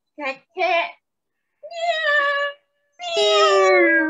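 A child imitates a cat, giving a series of meows: two short clipped ones, then two longer drawn-out ones that fall in pitch, close and clear with silent gaps between.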